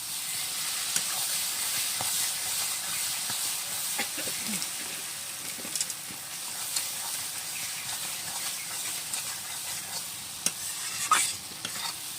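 Katla fish head masala being stirred and sautéed in a pan, a steady broad sizzle and hiss with soft scraping strokes of a spatula throughout, a few sharper clinks near the end, no talking.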